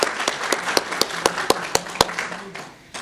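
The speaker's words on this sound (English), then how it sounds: "Give them that applause." Audience at an evening dinner event applauding the kitchen staff, a short burst of scattered claps from a modest crowd that thins out toward the end.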